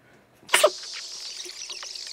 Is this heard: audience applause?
no